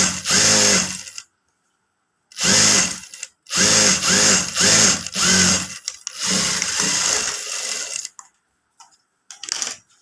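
Sewing machine stitching a Katori blouse, loud close bursts of fast mechanical rattling that start and stop several times in separate runs with silent gaps between them.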